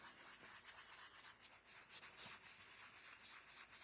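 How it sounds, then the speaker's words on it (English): A forged carbon fibre part is sanded by hand with steady back-and-forth scratchy rubbing strokes, close up, fairly quiet and continuous. "I don't know if this audio is absolutely terrible listening to sanding or not"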